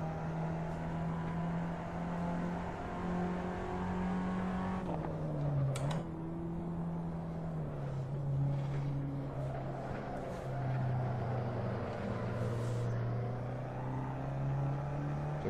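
A small car's engine drones steadily through driving in the Assetto Corsa racing game, its pitch rising and dipping with gear changes, and a voice talks faintly underneath.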